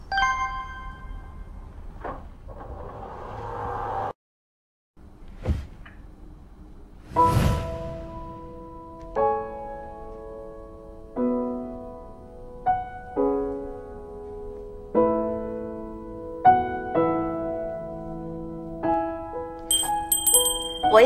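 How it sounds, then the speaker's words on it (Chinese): Bell ringing in a romance video game, a series of clear chiming dings spaced every second or two over soft background music, with no speech. "摇铃铛，你必须马上出现。"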